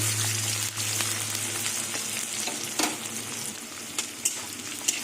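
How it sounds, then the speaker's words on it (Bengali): Sliced onions fry lightly in a hot pan for a potato and ivy gourd stir-fry, giving a close, steady, loud sizzle with scattered sharp crackles and pops throughout. "এবার পেঁয়াজ দিয়ে দেবো পেঁয়াজটা হালকা করে ভেজে নেব"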